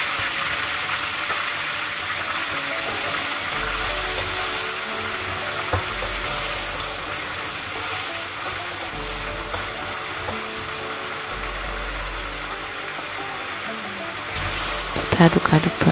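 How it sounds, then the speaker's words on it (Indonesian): Chicken frying in hot oil for Acehnese ayam tangkap, giving a steady, loud broadband sizzle that runs throughout with faint stirring noises and occasional background voices, then a few louder clatters at the end. "Kita goreng si ayamnya."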